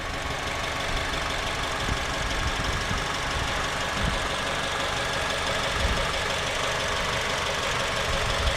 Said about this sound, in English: K24 idling away.